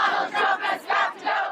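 Dense crowd noise at the D.C. Women's March in January 2017, with shouting and chanting voices swelling and fading in several loud waves over a steady roar.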